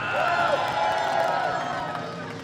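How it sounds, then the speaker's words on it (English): A convention crowd at MCM Birmingham lets out a big cheer, a broad, sustained roar of voices with whoops and scattered clapping that stays loud for a couple of seconds before easing slightly. "Come on, guys. Big cheer."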